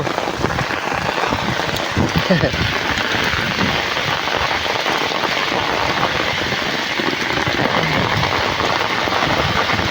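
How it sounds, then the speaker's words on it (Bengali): Heavy rain pours steadily during a storm at a rural home where ripe mangoes are falling, a dense, loud, continuous hiss of drops on surfaces lasting throughout with no voices. "বৃষ্টি হচ্ছে কিরকম দেখো।"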